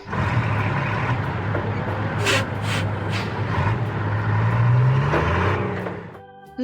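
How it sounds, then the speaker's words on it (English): A tipper truck rumbles with a steady low engine drone, a couple of sharp hissing bursts like air brakes midway, then the engine pitch rises briefly before cutting off. "tipped truck,"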